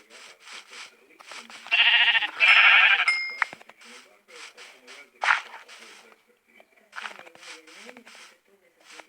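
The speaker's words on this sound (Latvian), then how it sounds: "Aitas." Several sheep bleat loudly in a wavering chorus, with scattered talking and rustling before and after.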